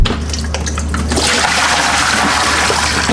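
A bucket of dirty mop water is poured out in one loud, continuous gushing splash that swells after a moment and keeps draining.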